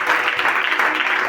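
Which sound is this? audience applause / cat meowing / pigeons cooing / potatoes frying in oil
audience applause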